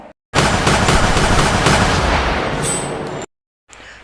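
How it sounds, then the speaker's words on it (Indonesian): A loud, rapid burst of gunfire from a Japanese yakuza crime film lasts about three seconds and then cuts off sharply. "Akhirnya Megumi berhasil melumpuhkan Han dengan menembaknya"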